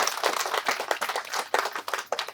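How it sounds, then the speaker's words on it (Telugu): An audience claps together in a sustained burst of applause at a clinic gathering, dense and fairly close, with no voices over it. "మరి నాగలక్ష్మిని మనం గట్టిగా చప్పట్లతో అభినందన తెలియజేద్దాం"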